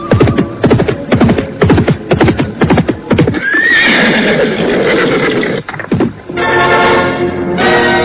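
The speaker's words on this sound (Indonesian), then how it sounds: "terdengar derap kuda semakin lama semakin dekat." Horse hooves clip-clop in a quick, loud rhythm that grows closer, followed by a sharp neigh and then further whinnying and snorting, all near and with no talk.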